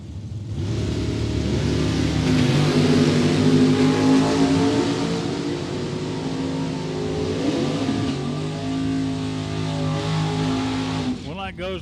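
A 1977 Camaro drag car roars down the lane at a drag racing event, its engine note climbing steadily through the gears, loud and sustained with crowd noise underneath.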